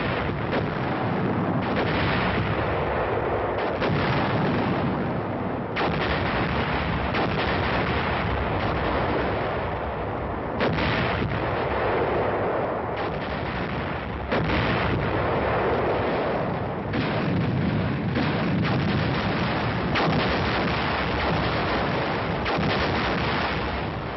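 A big artillery barrage with many guns firing in rapid succession, heavy overlapping booms rolling continuously and loudly throughout, with no talking.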